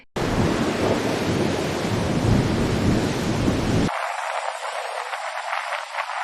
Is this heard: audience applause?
no